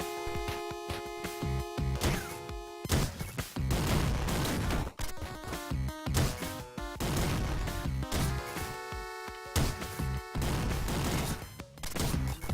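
Dense, rapid bursts of gunfire from shooting in the video game Downwell, loud and nearly continuous, layered over a steady electronic game soundtrack.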